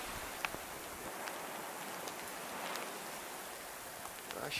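Hail or snow patters on a tent during a night of camping in the hills near Merlo, San Luis. A dense, even hiss of tiny impacts continues throughout, with a few sharper ticks standing out.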